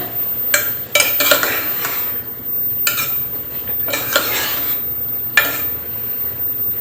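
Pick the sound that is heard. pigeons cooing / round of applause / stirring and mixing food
stirring and mixing food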